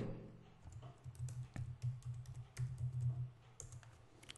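Typing on a computer keyboard, a steady patter of close keystrokes over a low background hum, with no one speaking.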